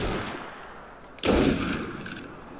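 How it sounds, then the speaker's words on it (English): A gunshot fired through a wall in the video game Assassin's Creed Unity: one sudden loud bang after a quieter stretch, trailing off in a rumbling decay, with no talking. "Yeah, you shoot through a wall."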